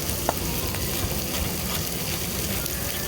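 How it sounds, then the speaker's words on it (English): Steak searing in a hot pan alongside reducing mushrooms, a constant dense sizzle and crackle heard up close, with a few sharper pops and no voices. "While our steak is searing and our mushrooms are reducing"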